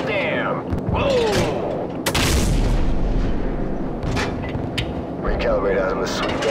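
Booming explosions and rapid gunfire from an aircraft gunship's cannons in Call of Duty 4: Modern Warfare, striking a flat-roofed building; loud sustained rumbling blasts with bursts of fire, mixed with radio chatter voices.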